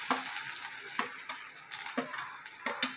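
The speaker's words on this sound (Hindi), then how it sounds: "इसको तड़कने दीजिए अच्छे से।" Cumin seeds spluttering in hot oil for paneer bhurji, a dense continuous crackling sizzle with rhythmic stirring strokes about every half second, close and fairly loud, no voices.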